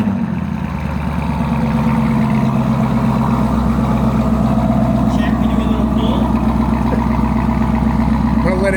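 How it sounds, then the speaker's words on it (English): Camaro ZL1 with a Borla ATAK exhaust on a cold start, a loud deep rumbling idle with steady low pulsing throughout. "I guess I'll give it a cold start with the Borla."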